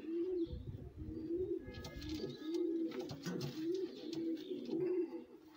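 A pigeon cooing in a loft of pigeons kept for breeding, a repeated low rolling coo about every second, fairly close and soft, with faint rustling and clatter in the background.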